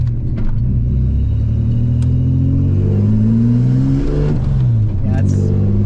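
A car engine on Project F, fitted with a 2 bar MAP sensor and an L67 ignition system, revs hard at full throttle. Loud and close, it climbs in pitch, dips, then surges again.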